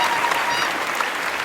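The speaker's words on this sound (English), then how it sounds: "Give them a round of applause again." Audience applause for a graduating class at a media school ceremony, a steady wash of clapping from a crowd, moderately loud and continuous through the short moment.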